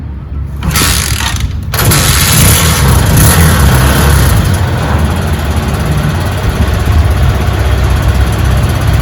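A 200cc three-wheeler engine starts up and then idles and revs loud and close, with a harsh mechanical rattle that carries on steadily after a brief catch at the start.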